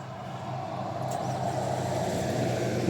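A Jeep engine running just after starting, a steady low rumbling idle that grows slightly louder, with a faint high whine over it.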